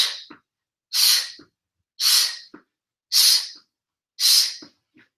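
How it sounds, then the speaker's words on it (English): Four strong, breathy exhales at a steady pace of roughly one per second, close to the mic, during a floor plank with alternating knee-in drives; faint inhales trail between them. "You can hear me breathing as I exhale and bring my knee in"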